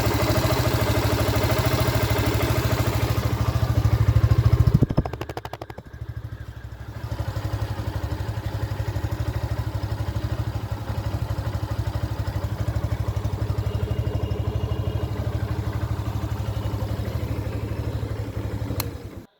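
A Yamaha FZS V2 FI motorcycle idles with a steady, even engine throb, loud and close. A brief break near the five-second mark is followed by the same smooth idle that runs on to the end.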